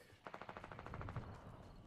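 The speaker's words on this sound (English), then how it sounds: "Did you guys find the gunshot source?" Rapid automatic gunfire in the video game Fortnite, a quick burst of evenly spaced shots at moderate distance, fairly faint and alone.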